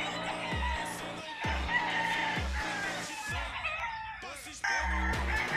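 Young gamecock stags of gray and Gilmore lines crowing several times in short, rising calls, with clucking and other fowl sounds in between, close by with more birds in the background.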